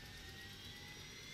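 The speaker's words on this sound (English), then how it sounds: "Helicopter starting." A helicopter engine starts up in the military video game Arma, making a steady, loud whining roar with a high turbine tone that holds evenly throughout, with no voices.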